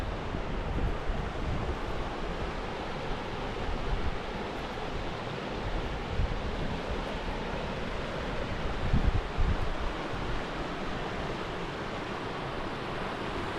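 Steady broadband rush of the Pleasant River flowing at Katahdin Iron Works, Brownville, Maine, constant and fairly loud, with wind buffeting the microphone throughout and no voices.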